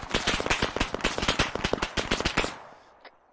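Incoming automatic gunfire in the ArmA 3 military game: a rapid burst of around twenty sharp, loud cracks in quick succession, then a sudden drop to near silence with one faint shot at the end.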